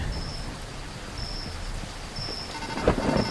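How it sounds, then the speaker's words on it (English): Heavy rain falls as a steady hiss in a video game, with a faint high electronic tone that repeats in the background and a brief louder rustle near the end. "Damn, it's raining really hard."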